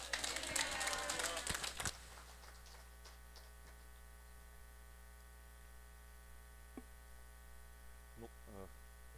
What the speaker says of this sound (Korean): 할렐루야로 환영의 박수 하겠습니다